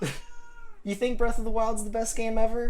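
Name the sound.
cat meowing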